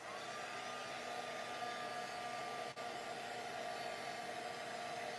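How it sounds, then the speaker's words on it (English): A handheld heat tool blows steadily close by while heat-setting on a handmade card, a continuous airy whir that stays level throughout with one brief dip. "I'm gonna take my heat tool once again. And I'm going to just heat set that."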